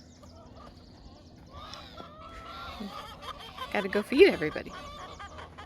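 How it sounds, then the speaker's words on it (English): Chickens on a Shetland sheep farm vocalising around feeding time, a burst of clucks and squawks rising near the end, with a person talking briefly. "Chickens come from all directions."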